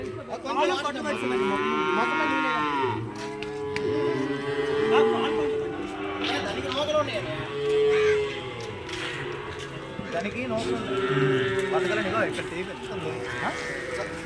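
Several cattle moo repeatedly at close range, long drawn-out calls overlapping one another, with people talking throughout.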